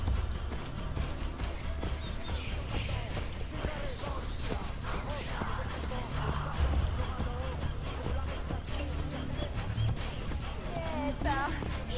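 Horse hooves clopping steadily as a rider travels through the streets in Assassin's Creed Brotherhood, a close, continuous rhythm under game ambience and someone talking.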